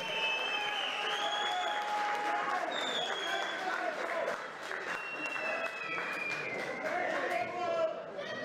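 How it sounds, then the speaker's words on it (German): Spectators at a Masai Rumble kickboxing event applaud after a bout, crowd clapping and cheers mixing with chatter and an announcer's voice carried over the arena. "Nochmal ein Applaus für die super Leistung."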